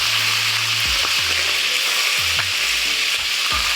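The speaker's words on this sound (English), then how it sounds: "we're going to get this lamb all browned in the pan" Lamb sizzles as it browns in a hot pan, a steady loud frying hiss broken by several sharp scrapes and clunks of stirring.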